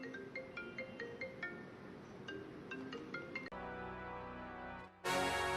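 A mobile phone ringtone plays a repeating melodic chime pattern, fairly quiet at first, then shifts into a sustained tone and ends in a loud bright burst.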